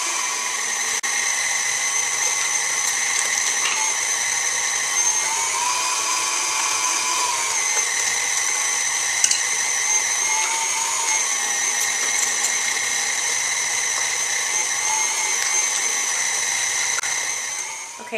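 A KitchenAid stand mixer with a food grinder attachment grinds fresh cranberries, giving a steady, loud, high-pitched motor whine with a faint ratcheting rattle that runs without a break for the whole stretch.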